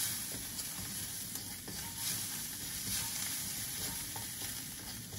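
Chicken fries in a very hot wok with a faint, continuous sizzle and hiss, broken by light scraping and stirring sounds. There is no talk over it.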